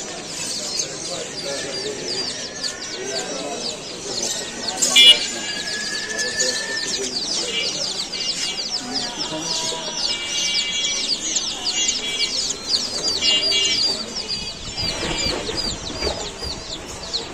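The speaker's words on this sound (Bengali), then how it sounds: "সব পাখির দোকান" Many caged birds in a bird shop chirp and twitter continuously at close range, with cooing, wing flaps and clucks mixed in; voices talk in the background.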